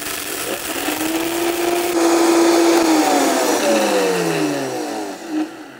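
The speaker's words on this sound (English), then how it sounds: "I'm going to use the high-speed blender because honestly it is very efficient for grinding spices like this." A high-speed blender grinds dry whole spices for tacos árabes, its motor whining loudly and steadily for several seconds, pitch rising and then sliding down as it winds off.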